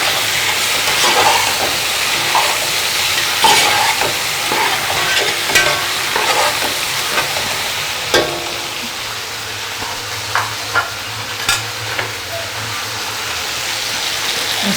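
Tomato and onion being stirred in a hot frying pan, a continuous close sizzle with scraping strokes of the spoon, then a few sharp taps against the pan near the end.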